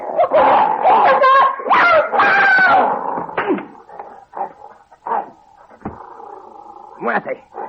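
A hunting dog barks in an outdoor chase scene from a vintage Agatha Christie mystery drama, a few sharp barks mixed in with loud shouting voices and some rooster-like calls.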